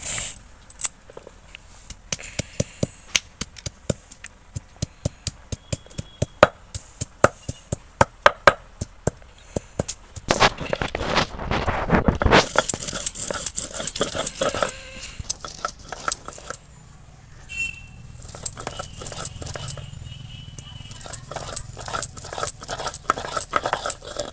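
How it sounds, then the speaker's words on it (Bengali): Ginger and two green chillies being ground for a cauliflower roast, with rapid rhythmic grinding and scraping close by, then a steadier dense churning burst midway, quieter clatter after. "এই আদার সঙ্গে আমি 2টো কাঁচা লঙ্কা বেটে নেব।"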